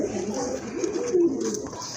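Pigeons in a loft coo in low, rolling murmurs close by, the soft calls overlapping continuously for the brief stretch.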